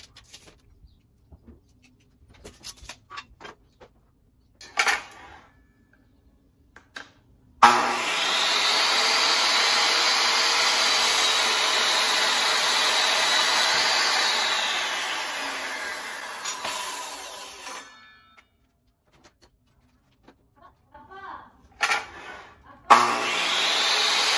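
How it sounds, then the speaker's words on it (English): Miter saw cutting cedar wood to length for raised planter box legs, a loud steady whine lasting about ten seconds before winding down, with quieter workshop handling noises before and after. "I cleaned up one of the edges here on the miter saw, and I'm going to have a stop block set and I'm going to cut it to 35 inches"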